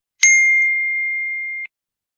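A notification bell sound effect gives a single bright ding that rings on steadily for over a second, then cuts off cleanly. No other sound is heard.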